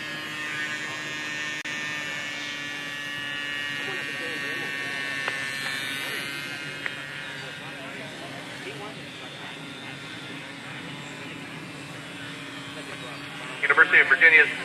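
A small model aircraft engine from the SAE Aero Design competition drones in a steady, thin buzz as the plane flies its downwind leg, with a commentator talking over it and a brief louder rustle near the end.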